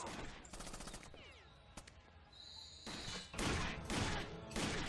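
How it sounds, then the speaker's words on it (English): Bursts of automatic gunfire and impacts in the video game Rainbow Six Vegas 2, rapid clattering volleys at the start and again near the end, with quieter game noise between. "Why are you shooting at a computer?"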